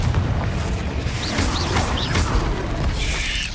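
Confringo, an explosive spell in Hogwarts Legacy, goes off as a booming blast amid a dense, steady roar of combat, with a few short whooshing streaks rising over the rumble; no voices stand out.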